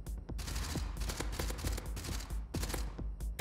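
Rapid bursts of gunfire in the shooter game Gunpunk, loud and close, with several clustered volleys of sharp shots repeating across the moment and no talk.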